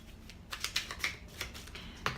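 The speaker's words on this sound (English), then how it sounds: "Okay, I'm just shuffling." Tarot cards are shuffled by hand in a series of quick, crisp riffling taps and flicks, close and fairly soft, with no one speaking.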